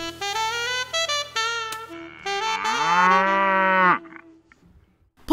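A dairy cow on a small farm moos loudly and close, several short lowing calls leading into one long drawn-out moo, then quiet.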